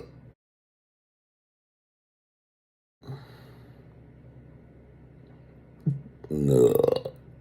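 A person lets out a loud, drawn-out burp after a short quieter burp and some breathing, with silence at the start.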